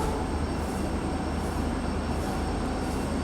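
A passenger train hauled by a WDP4 diesel locomotive rolls in steadily, a continuous loud rumble of wheels and engine with faint squealing and no voices.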